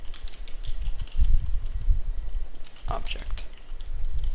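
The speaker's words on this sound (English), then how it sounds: "let me just type this" Computer keyboard keys clatter in quick irregular bursts while someone writes Java code, close and fairly loud, with someone talking over parts of the typing.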